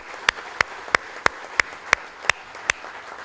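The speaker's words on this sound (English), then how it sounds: "I would request the audience to give him a round of applause for his excellent lecture" Applause for a minister's lecture at an IIT Delhi book release: sharp, evenly spaced claps, about nine in three seconds, in a steady rhythm against a quiet room.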